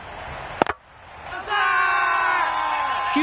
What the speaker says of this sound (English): Will you listen to the crowd? They are loving it.